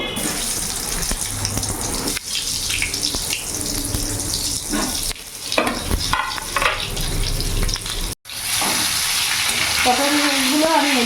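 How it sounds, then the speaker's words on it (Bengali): Pointed gourds dropped one by one into hot refined oil in a wok sizzle and spatter loudly and continuously. A brief pause comes partway through, and a voice is heard near the end. "কড়াই গরম হয়ে গেছে এবার এক এক করে আমি পটলগুলো ছেড়ে দেবো"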